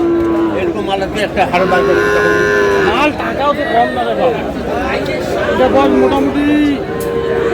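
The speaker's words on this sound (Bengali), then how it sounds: "শাহিওয়ালের ষাঁড়।" A Sahiwal bull moos repeatedly amid a busy cattle market in Comilla, with people chattering and calling out nearby throughout.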